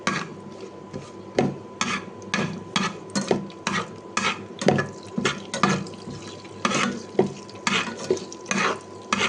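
Whole spices including star anise sautéed in a pan for a Chettinad mutton gravy, with a steady sizzle beneath repeated rhythmic scraping strokes of a spatula, close and fairly loud, with no talking.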